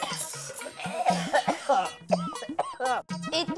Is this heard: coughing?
yes